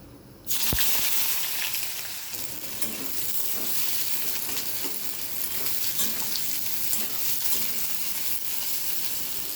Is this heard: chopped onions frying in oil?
yes